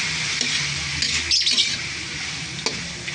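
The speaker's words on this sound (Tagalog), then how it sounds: "Gigisa lang po natin yan." Squid balls and kikiam sauté in a pan for pancit bihon, a close, steady sizzle with a few scraping stirs and a sharp clack near the end, no talk.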